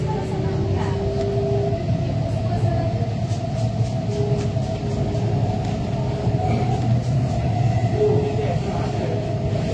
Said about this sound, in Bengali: দেখুন এবারে কিভাবে মাটির নিচে ঢুকে যাচ্ছে আমাদের ট্রেন।